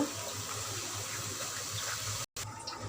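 A little water poured into a pot of boiled kharman (kharkol) leaves with chopped garlic and salt, a steady close rush of running liquid that cuts out briefly near the end.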